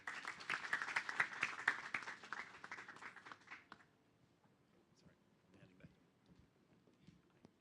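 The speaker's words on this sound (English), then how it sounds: "Another round of applause" Applause from the audience at a closing internship and first-job careers event, a dense patter of clapping that fills the first half and then breaks off into near silence with scattered faint noises.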